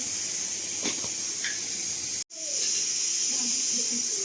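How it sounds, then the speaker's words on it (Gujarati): Puris fry in hot oil in a large pot at a village cooking gathering, giving a steady bright hiss that cuts out briefly, then resumes alongside faint background sounds. "તો ચાલો તળવાનું ચાલુ થઈ ગયું છે પૂરી"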